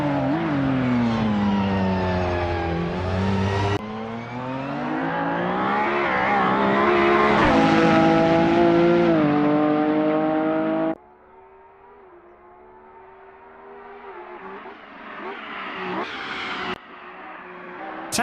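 Race car engine on a hillclimb run, loud and sustained with rising revs and gear changes, then dropping to a quieter, rougher tone on deceleration as it nears before building again.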